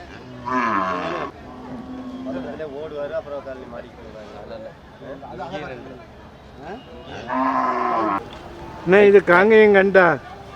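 Cattle low repeatedly at the Manapparai cattle market in Tamil Nadu, with several loud, drawn-out moos rising over a steady crowd murmur of people talking.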